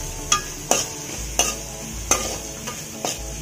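A utensil repeatedly stirs and scrapes grated carrot and vegetables sautéing in a pan for homemade chicken fried rice, with six sharp clinks at irregular intervals over a soft, steady sizzle.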